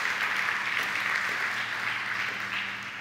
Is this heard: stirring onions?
no